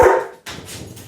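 A dog named Cooper gives a single loud, close bark, followed by a brief pause and then a lower rumble of whining and grumbling in a home kitchen.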